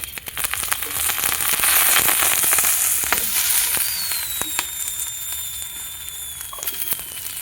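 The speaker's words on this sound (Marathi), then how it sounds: "तेल टाकल्यानंतर मिरची उडते." Green chillies spluttering in hot oil over a wood-fired stove on a terrace, a dense crackling sizzle with sharp pops scattered throughout, close and fairly loud, with no talking.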